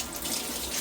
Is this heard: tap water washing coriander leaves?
yes